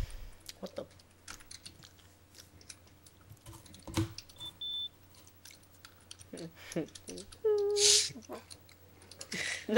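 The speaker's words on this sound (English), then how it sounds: "what are you typing?" Light, irregular clicking of keys on a computer keyboard in short scattered bursts, fairly close and quiet, with a few other small clicks and a brief voice near the end.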